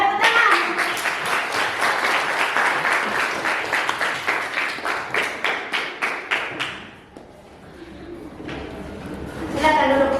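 Students in a ninth-grade civics class clap for a presenting group, a steady run of close, crisp claps that slows into separate taps and fades, then picks up again briefly at the end, with some voices mixed in.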